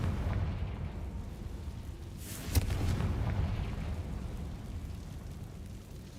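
In Hogwarts Legacy, a Confringo fire spell bursts as one sharp blast partway through, rising briefly above a constant low rumbling game backdrop.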